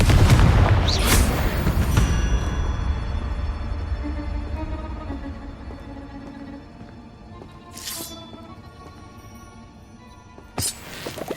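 Confringo fire spell exploding in Hogwarts Legacy, a loud booming blast up front that decays into a long ringing tail, followed by two further sharp cracks later on.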